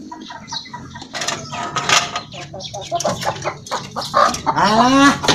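Chickens cluck and squawk close by in a busy, uneven stream, ending in a louder drawn-out call.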